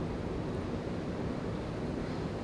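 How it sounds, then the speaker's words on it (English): Ocean surf rolls in under an onshore flow, a steady, broad wash of breaking waves mixed with wind noise on the microphone, with no talking. "So we got this onshore flow, which is bringing the waves in."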